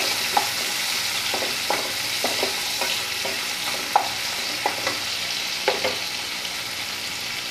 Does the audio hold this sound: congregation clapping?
no